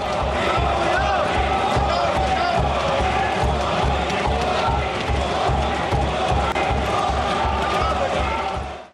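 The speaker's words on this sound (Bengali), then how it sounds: "তার আয়কর ঘোষণার পরই লোকসভায় মোদির নামে স্লোগান দিলেন বিজেপি সাংসদরা" BJP MPs in the Lok Sabha chant slogans in Modi's name, a loud, dense crowd roar with rhythmic collective shouting held steady throughout.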